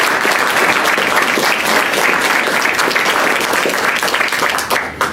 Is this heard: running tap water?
no